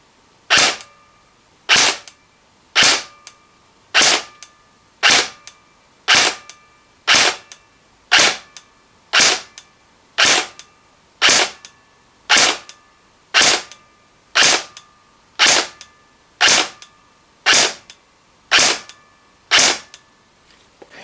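A KWA Ronin T10 airsoft gun fires 0.3 gram BBs at a 15 metre range on an 11.1 lipo, about eighteen sharp, evenly spaced semi-auto shots roughly one per second, each a crisp close snap with a short mechanical tail and quiet gaps between.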